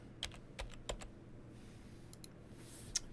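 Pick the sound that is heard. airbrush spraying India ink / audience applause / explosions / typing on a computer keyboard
typing on a computer keyboard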